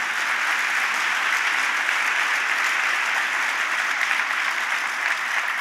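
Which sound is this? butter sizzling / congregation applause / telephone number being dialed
congregation applause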